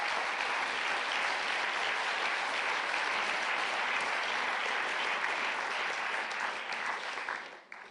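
Staff at an employee forum break into sustained applause, a dense, even roar of many hands clapping that holds steady for several seconds before tapering off at the end.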